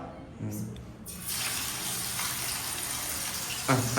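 Chicken drops into hot sunflower oil in a pan and a steady, broad sizzle rises and holds, loud and close, with a voice talking briefly at the start and end.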